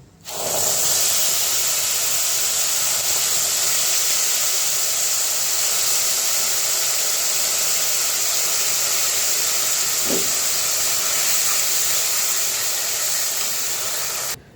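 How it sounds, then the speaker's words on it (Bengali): Pineapple paste spooned bit by bit into hot oil tempering with crushed cardamom for pineapple chutney, giving a loud, continuous hissing sizzle that holds steady throughout, with one faint clink partway, no voices. "আমি পেস্ট করে রেখেছি আনারস। তো অল্প অল্প করে দিতে থাকবো।"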